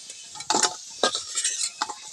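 Potatoes fried in a pan and stirred with a utensil, giving a few scraping, clattering strokes over a soft sizzle, close and fairly loud, with no speech.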